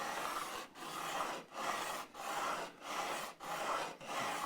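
A 9.5 radius block with 80 grit sandpaper rubbing up and down a guitar fretboard on a 1972 CMI Telecaster, six steady even strokes with brief pauses between, close and continuous, with no voices.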